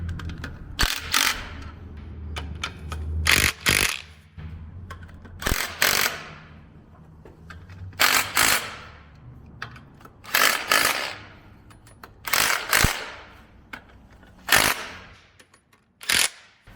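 Impact power tool running down pressure plate bolts onto a flywheel during a Toyota 22RE engine replacement, about a dozen sharp rattling bursts in short pairs and singles, loud and close, separated by quiet pauses.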